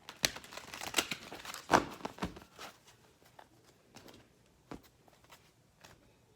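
Quick papery riffles and soft snaps of cards being shuffled, irregular bursts of crisp slapping, fairly quiet and close with no talking.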